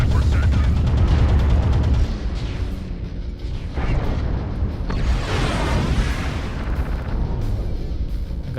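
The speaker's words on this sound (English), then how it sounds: "Airstrike active." Heavy airstrike explosions in the Piranha PIR-1 mech game: deep booming blasts and rumbling impacts fill the first two seconds, followed by continued crashing and mechanical battle noise at a steady loud level.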